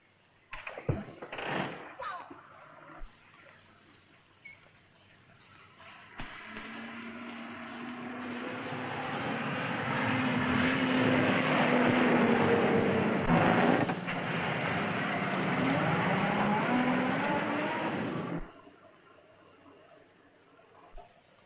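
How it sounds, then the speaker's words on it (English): A motor engine approaches in an old radio drama, a low hum that rises into a loud, sustained roar before cutting off abruptly, following a few sharp knocks and brief talk. "I think I hear a motor."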